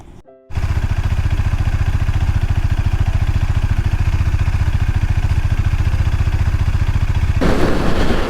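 A Duke 250 motorcycle engine while riding on a road trip toward Kolli Hills, throbbing loudly and close with a steady, rapid pulse after a brief quiet start, and turning into a broader rushing noise near the end. No one speaks.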